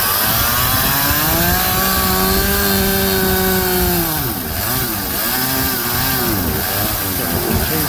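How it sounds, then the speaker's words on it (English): A chainsaw mounted on a portable chainsaw mill roars steadily through wood, loud and close, its engine pitch sagging and recovering slightly under load midway, with no voices. "The chainsaw's only on one side."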